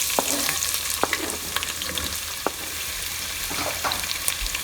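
Onions and chilies sizzle in a pan of hot oil for chicken keema, a steady frying crackle punctuated by sharp scrapes and clicks of a utensil stirring, with no talking.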